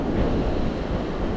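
Steady light wind buffets the microphone at the seashore during surfcasting, with a continuous low rumble of breeze and gentle surf underneath, loud and unbroken, no voices.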